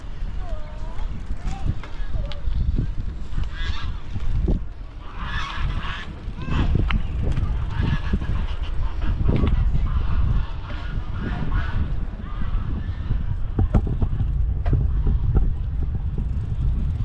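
Geese honk at Zoo Lake in Johannesburg while children feed them grain, many overlapping calls against steady outdoor noise, with people talking nearby.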